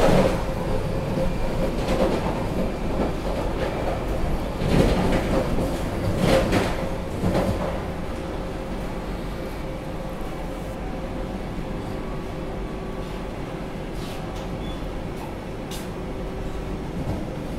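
A Vande Bharat Express train runs on rails between Jabalpur and Bhopal, heard from inside as a steady rumble with sporadic clicks and clatter from the track, louder early on and then settling to an even drone.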